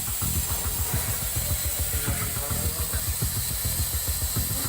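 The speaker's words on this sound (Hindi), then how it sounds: "उसी सीटी के ऊपर लगी गीजर की पाइप से होते हुए प्रेशर कुकर का गर्म भाप सीधे रेल कर्मियों के नाक" Hot steam from a pressure cooker hisses steadily out through a geyser pipe fitted over the whistle, a continuous close, loud rush with a faint rhythmic pulsing underneath.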